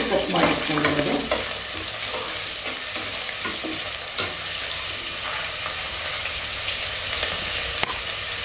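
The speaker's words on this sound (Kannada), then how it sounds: "ಕಟ್ ಮಾಡಿಕೊಂಡಿರೋ ಈರುಳ್ಳಿ ಮತ್ತು ಮಸಾಲೆ ಎಲೆ ಅಂದರೆ ಬಿರಿಯಾನಿ ಎಲೆನ ಎರಡನ್ನೂ ಹಾಕಿದ್ದೀನಿ ನಾನು. ಅದನ್ನ ಸ್ವಲ್ಪ ಫ್ರೈ ಮಾಡಿಕೊಂಡು" Chopped onions and bay leaf frying in a pan for nati-style biryani, a dense continuous sizzle with scraping stirs and utensil knocks, close and loud with no talking.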